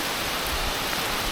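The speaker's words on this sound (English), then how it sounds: "due to torrential rain causing terrible visibility" Torrential rain pours outdoors during a wet airsoft game, forming a dense, loud, unbroken hiss with no distinct drops or voices.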